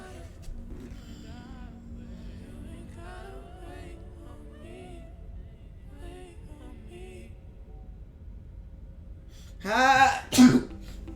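Muffled voices murmur quietly in the background, then a single loud, close sneeze bursts out near the end, followed by a short sharp exhale.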